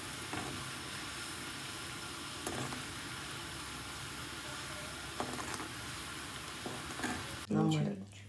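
Chili powder mixture frying in oil for a garlic and bird's-eye chili pickle, a continuous close sizzle with occasional stirring knocks, briefly interrupted by a louder bump just before the end.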